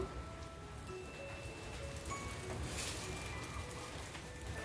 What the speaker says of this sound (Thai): ฝนตกครับ ฝนตกครับผม